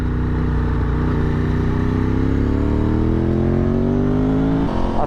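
A Ducati 996 motorcycle cruises on a relaxed test ride, its engine droning steadily close by with pitch slowly rising as it gains speed, loud and unbroken.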